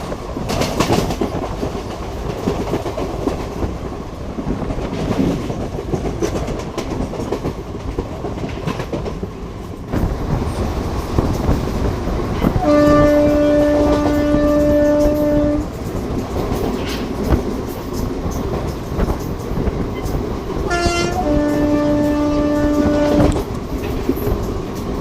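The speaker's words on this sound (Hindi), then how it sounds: "हमारी ट्रेन भी स्किप कर रही है सेलू रेलवे स्टेशन" The Jalna–Parbhani Festival Special train rolls through without stopping at Selu station, with loud continuous rumbling and clatter of the cars, broken by two long horn blasts, one in the middle and one near the end.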